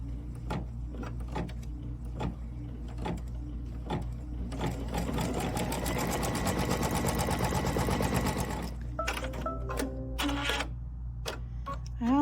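A sewing machine runs close up, starting with scattered ticks, then stitching in a steady rapid rhythm for several seconds, and stopping with a few clicks.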